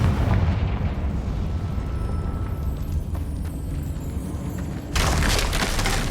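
Confringo fire spell in Hogwarts Legacy: a steady background hum, then one sudden loud explosive burst near the end that rings on.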